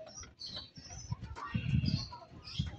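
Several small pet birds chirp and twitter close by in quick, overlapping calls, a busy cluster of tweets with low rustling underneath.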